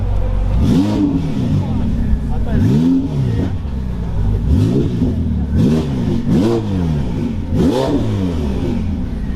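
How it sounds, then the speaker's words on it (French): Ferrari 488 Pista accelerating hard at a car rally event, with repeated loud revving surges and quick gear-change dips as the engine note climbs again and again. "La pista qui accélère."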